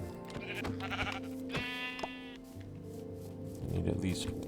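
Sheep in the Minecraft video game bleating in short, wavering calls that repeat several times, mixed with game tones and someone speaking over them.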